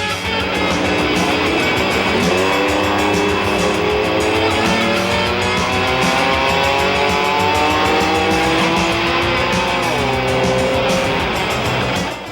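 Off-road trucks in a stadium race roar loudly and continuously, engines revving and rising in pitch as they accelerate through the run, with a dense crowd-and-motor wash throughout and no talk.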